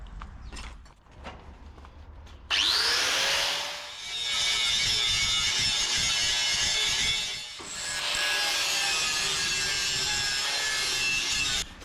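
A power grinder or sander working down a Charger headlight panel, starting with a sharp rising whine and then running loud and close in two long continuous passes with a brief break between them.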